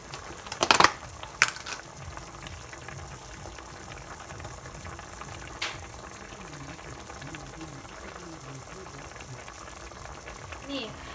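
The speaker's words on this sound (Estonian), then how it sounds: "Ja niimoodi peab see keema siin umbes 10 minutit" Mushroom and amber purée soup simmering in a pot, a steady low bubbling that runs for the whole stretch, with a few sharper clinks or knocks near the start.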